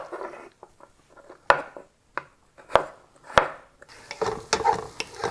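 Knife chopping turnip on a cutting board in a home kitchen for Persian turnip soup, a run of sharp, irregular chops close by, alone, turning denser and quicker toward the end.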